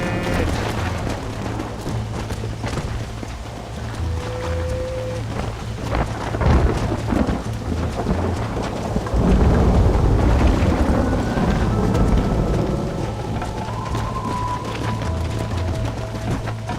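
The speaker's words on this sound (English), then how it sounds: "The storm's getting worse." A thunderstorm in Red Dead Redemption, with steady rain and deep rumbling thunder that swells in the middle. A low engine-like drone and faint tonal game sounds run underneath.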